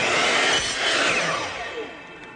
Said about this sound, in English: run this on the table saw, put the two pieces back together